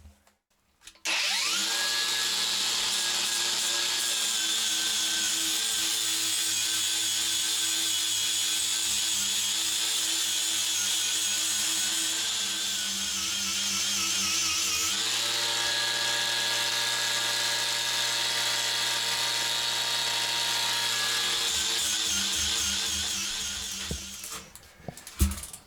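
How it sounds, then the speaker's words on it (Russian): A power sander works over wood for a rustic-style bench, a steady high whine that runs continuously with a brief shift in pitch midway, then stops. "Сейчас буду шлифовать."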